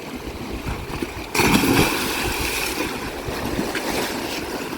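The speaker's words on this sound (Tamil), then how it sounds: "தண்ணி கொப்பளிச்சு வெளியே வருது." Water gushes out into a large canal in the Thirumoorthy hills near Udumalpet: a steady, rushing wash that surges louder after a moment and stays full and close, with no voices.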